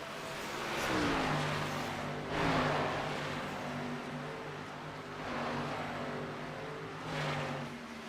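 Gen 4 race cars at Indianapolis pass by in waves, engine whines rising and falling as several cars approach and recede, fairly distant and steady.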